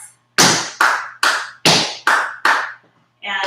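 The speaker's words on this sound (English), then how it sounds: "A step and 2 claps." Six crisp, close hand claps or taps of a tap dance sequence ring out in an even rhythm, followed by a brief voice.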